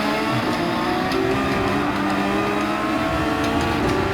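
Race car engine in Gran Turismo 7 driving hard on the throttle out of a corner, a loud, continuous, steady engine drone that fills the whole clip with no talking.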